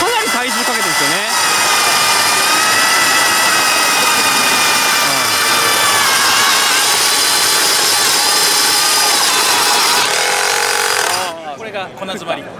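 A dry diamond core drill bores into material and jams on packed dust, a loud continuous grinding whine that strains, wavers and then cuts off near the end, with voices talking over it at a trade show.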